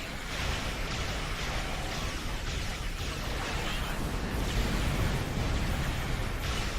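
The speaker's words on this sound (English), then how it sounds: "Target the Herc and open fire" Starship weapons fire and explosions in a space battle in Star Trek Online, a steady wash of rumbling blasts and bursts, loud and continuous with no clear breaks.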